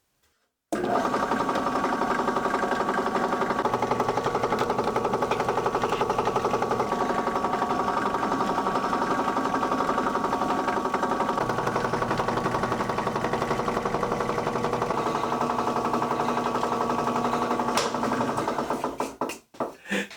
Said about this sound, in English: I need to drill a hole above each cutout for the ornament thread to pass through